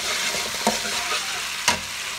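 Pork and holy basil stir-fry in a hot pan with oyster sauce and fish sauce, giving a loud continuous sizzle. Two sharp scrapes or stirring clacks stand out in it.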